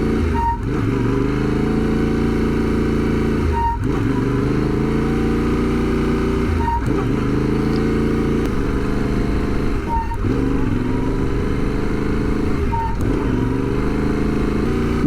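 A motorcycle idles loudly and close up, its low engine drone steady throughout, with the rider tapping the rear brake about every three seconds, each tap marked by a brief dip and click.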